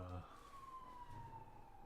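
A distant siren wails in a long descending tone, faint behind the room's hush, with a brief bit of noise at the start.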